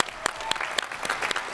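Applause at a direct primary care conference breaks out thinly, a handful of distinct, fairly quiet claps spaced irregularly rather than a full ovation.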